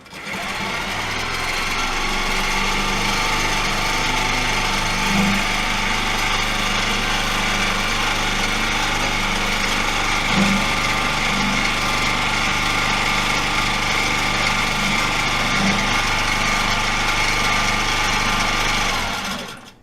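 A sewing machine hums steadily and loudly while quilting a quilt, a continuous motor whine with a few faint soft knocks at intervals and no talking.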